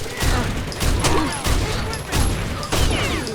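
Repeated bursts of gunfire in Rainbow Six Vegas, four or five loud volleys at roughly regular intervals over dense game noise, with quieter metallic clicks between them.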